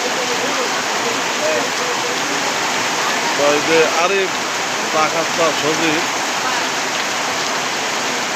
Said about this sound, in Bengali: এই বৃষ্টি তো অনেক তুফান বৃষ্টি